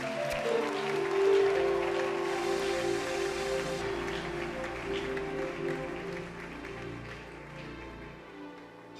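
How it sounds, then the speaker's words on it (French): A church congregation applauds and cheers in a dense, steady roar of clapping that fills the room, sustained throughout and slowly easing toward the end. "Nous acclamons Jésus."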